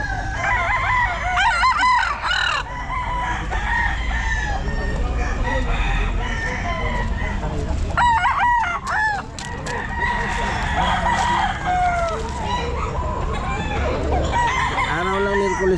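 Young Golden Boy stag gamecocks crowing at a pet market, with repeated loud crows close by near the second and eighth seconds and fainter crowing and clucking in between, layered over steady market chatter.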